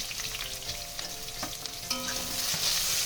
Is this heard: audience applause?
no